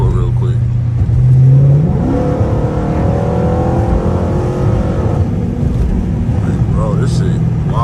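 A straight-piped 345 Hemi Dodge Charger R/T is at full throttle on a highway, heard from inside with the window down, its exhaust roar loud and continuous and climbing steadily in pitch as the car pulls hard.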